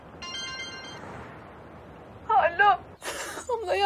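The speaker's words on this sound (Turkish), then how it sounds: "Ya kızın telefonu çalıyor." A mobile phone ringtone plays as a brief, fairly faint melodic tone early on, then fades as people talk and gasp loudly nearby.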